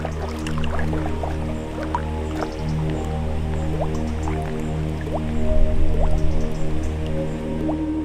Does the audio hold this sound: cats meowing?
no